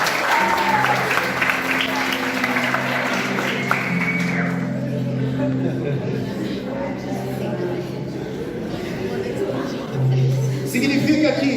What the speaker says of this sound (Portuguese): Um salve de palmas comigo.